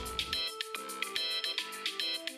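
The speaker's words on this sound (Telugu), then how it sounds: "ఏదో అన్నోన్ నెంబర్ నుంచి ఫోన్ వస్తుంది" A mobile phone rings with an incoming call from an unknown number, its melodic electronic ringtone playing a steady repeating tune, fairly clear and close, with no talking.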